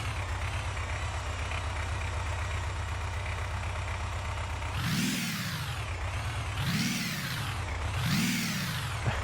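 A homemade improved piston combustion engine runs with a steady buzzing drone, then revs up three times in rising-and-falling sweeps during the second half, close and loud, with no talking.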